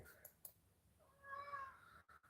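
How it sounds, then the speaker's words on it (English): A house cat lets out one drawn-out, wavering meow in a quiet room, preceded by a couple of faint clicks and followed by brief rustles. "what are you meowing about now?"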